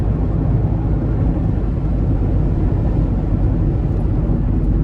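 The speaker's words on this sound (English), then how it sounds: "the wind noise doesn't really bother me that much, especially for the driving experience you get here" Wind noise inside a 2019 Mazda MX-5 Miata Sport while driving, a continuous loud low roar of rushing air and road rumble with no breaks or talk.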